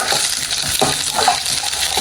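Ginger and garlic frying in a pan, a steady close sizzle with light stirring scrapes running through the whole short stretch, no voices.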